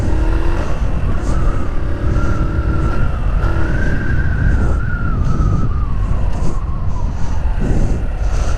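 Motorcycle engine on a riding-school practice area revving steadily in first gear, then shifting up into second, its tone dropping and climbing again; loud, close and continuous throughout.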